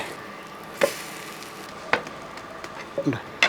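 Bread omelette cooking in coconut oil in a pan, a quiet steady sizzle broken by a few sharp clicks and scrapes of a utensil against the pan.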